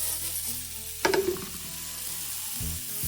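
Carrot and zucchini sautéing over low heat in a pan give a steady soft sizzle, broken by a brief clatter of stirring near the start.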